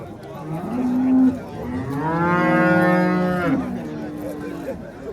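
Cattle moo at an Oltiariq livestock market, one long, loud, nearby bellow with a rising then falling pitch rolling over a busy background of market murmur.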